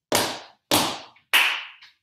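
Three sharp, evenly spaced hand claps in a tap dance routine, close and loud, each ringing briefly in an otherwise quiet room.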